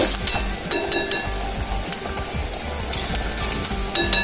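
Ginger and green chilies sizzle while frying in a pan for a Kerala puli inji, a steady close crackle broken by sharp metallic clinks of stirring against the pan, with no talk.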